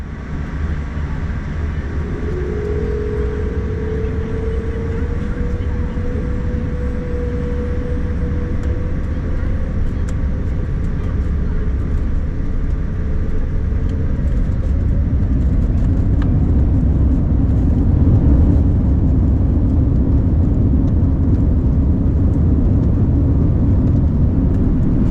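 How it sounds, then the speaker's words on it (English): A British Airways Boeing 787 taxis to the runway and takes off, heard from inside the cabin as a steady, heavy low rumble with a faint whine early on, building gradually toward the end. "Let's get off stand, to the runway, and into the air."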